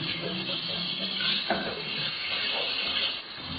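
Steady close sizzle and hiss of tomatoes dropped into a hot pot of chicken haleem with garam masala, broad frying crackle holding even throughout with a few brief stir scrapes.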